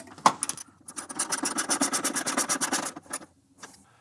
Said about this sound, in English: So now we can go ahead and tighten those bolts down.